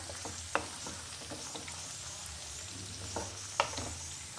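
Tomato, chilli and onion sauté in a pan with a soft continuous sizzle, punctuated by a few distinct spatula taps and scrapes, fairly quiet and close, with no speech.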